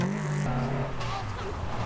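A 2-litre turbocharged four-wheel-drive Subaru rally car accelerates hard at a rally sprint, its engine droning loud and steady with gear changes audible, with faint tyre noise mixed in.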